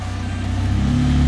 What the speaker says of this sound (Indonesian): Ini dengan knalpot standar.